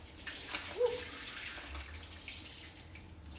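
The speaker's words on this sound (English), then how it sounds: "then you pour it through your strainer again." Liquid poured through a kitchen strainer while making raw vegan sushi, a soft, steady trickle of running water heard close up for a few seconds with no talking.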